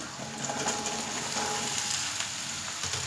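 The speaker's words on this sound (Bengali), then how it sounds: "আলুটা দেখুন আমার ভাজা হয়ে গেছে এবার আমি ঝিঙেগুলো দিয়ে দিচ্ছি" Potatoes and ridge gourd frying in a pan for a vegetarian lunch dish, giving a steady, close crackling sizzle with soft stirring scrapes and no talk.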